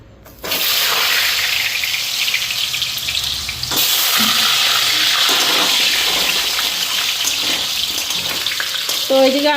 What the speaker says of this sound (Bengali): এইদিকে আলুটা ফ্রাই করে নিই মাংসের জন্য